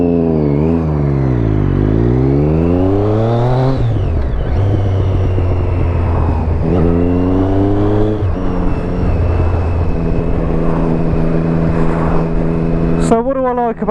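A 2013 Triumph Street Triple with a new aftermarket exhaust revs up and down repeatedly, its engine note close and loud, rising and falling in steady sweeps between brief idling stretches.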